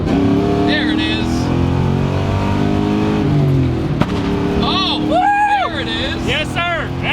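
A Ford Mustang V8 with a hollow, echoey exhaust revs and drones loudly up close, the engine note rising and falling while people talk and exclaim over it.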